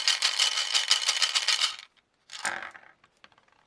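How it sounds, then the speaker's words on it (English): Dice shaken hard inside a tumbler during a Christmas Vacation party board game, a dense loud rattle for nearly two seconds, then a short clatter as they are rolled out, followed by a few faint scattered ticks. "On your turn, shake up the dice in the tumbler and roll them."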